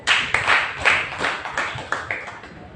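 A church congregation claps hands in a burst of sharp, irregular claps that rise and fall over a few seconds, loud and close, with no talking.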